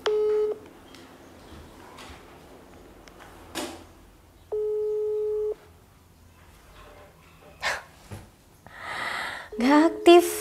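A phone call is dialed to a number that is not active. Short electronic tone bursts sound, then a longer steady tone, and scattered clicks and rustles follow with a brief burst of noise near the end.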